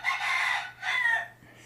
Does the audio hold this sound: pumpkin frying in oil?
no